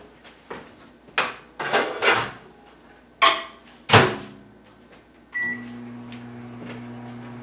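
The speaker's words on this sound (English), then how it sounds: "I'm going to go ahead and put this into the microwave for a minute each" A microwave oven heating beaten eggs for an omelette: clicks and thumps of the door and buttons, then a steady low hum with beeps settling in as the oven runs, close and clear.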